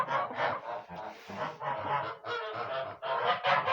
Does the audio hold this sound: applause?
no